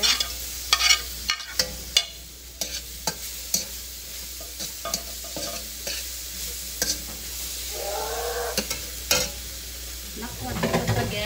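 Ginger sizzles in a pan while buttered shrimps are being cooked. A soft, continuous fry hiss sits under repeated sharp scraping clicks of stirring, with no talk.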